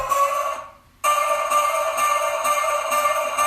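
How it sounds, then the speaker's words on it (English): Electronic vocal loop built from cut exhale samples with tremolo and room reverb on a progressive dance drop, a bright shimmering texture that briefly dips out then returns steadily. "This vocal loop is done with exhale, cut loops, and I add a tremolo and a room, reverb."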